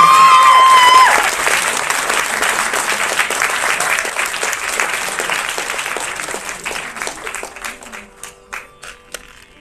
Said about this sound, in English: Can we have another round of applause for her?